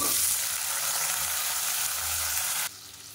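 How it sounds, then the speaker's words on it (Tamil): Whole small shallots, about 300 grams, sizzle steadily in hot oil for a Madurai-style mutton and chicken curry, a dense continuous frying hiss that drops off sharply near the end. "இப்போ எண்ணெய் சூடானதும் நல்லா ஒரு 300 கிராம் அளவுக்கு சின்ன வெங்காயம் நான் வந்து அப்படியே முழுசாகவே போடுறேன்"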